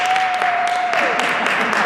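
A debate audience cheers and applauds in a dense, continuous wash of clapping, with a sustained whistle riding over the crowd noise.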